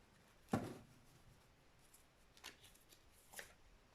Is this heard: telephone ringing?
no